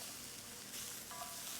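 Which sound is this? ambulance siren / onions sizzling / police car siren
onions sizzling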